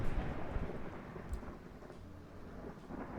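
Low, rolling thunder from a brewing storm in a video game rumbles steadily with a hiss like rain beneath it, loud and continuous without any voices.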